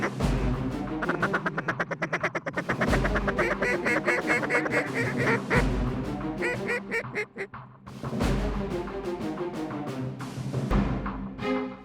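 Mallard ducks on a small bottomland river quack and call repeatedly in loud overlapping bursts, some close and some farther off, with short lulls between calls.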